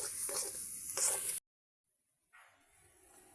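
A filling with coriander leaves and chopped green chili frying in a pan, a loud steady sizzle for over a second that cuts off abruptly, then a faint hiss after a pause.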